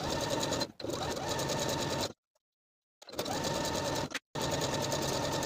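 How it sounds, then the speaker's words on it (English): A sewing machine stitches a knit neckband in steady rapid bursts, stopping briefly between runs, close and alone with no talking. "Now I'll take this to the sewing machine and sew my neckband in place"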